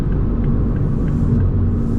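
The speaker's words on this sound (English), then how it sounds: "you're going to hear some road noise, going to hear some engine noise." A loud, steady engine drone with deep rumbling road noise, from inside a 2024 Toyota Supra sports car moving at speed.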